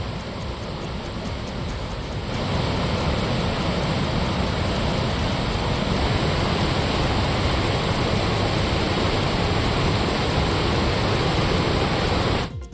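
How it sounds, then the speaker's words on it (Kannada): Heavy roar of Abbikallu falls near Basarikatte, swollen and muddy with monsoon rain, a dense continuous rush of falling water that swells after the first two seconds and holds steady and loud with no voices. "ಮಳೆಯಿಂದ ಧುಮ್ಮಿಕ್ತಾ ಇರುವಂತಹ ಅಬ್ಬಿಕಲ್ಲು ಜಲಪಾತ ನೋಡಿ ಪ್ರವಾಸಿಗರು ಫಿದಾ ಆಗಿದ್ದಾರೆ"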